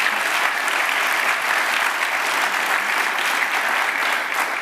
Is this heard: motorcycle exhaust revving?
no